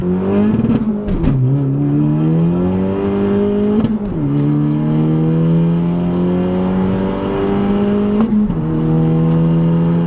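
A 2018 Honda Civic Si with a 1.5-litre turbo engine, fitted with an aftermarket intercooler and charge pipe, accelerating hard: loud rising engine tone climbing through three gears with brief dips at each shift, heard from inside the car.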